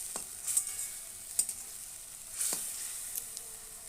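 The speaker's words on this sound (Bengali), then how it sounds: "তো আমের সঙ্গে আদা জিরে হলুদটা দিয়ে ভালো করে কষিয়ে নিচ্ছি।" Mango with ginger, cumin and turmeric is sautéed in a pan, a faint hissing sizzle with a few distinct scraping stirs and clinks, near and without talk.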